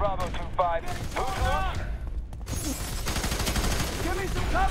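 Video game gunfire from FEAR 3 rattles in rapid automatic bursts, dense and sustained, mixed with in-game voices talking over the shooting.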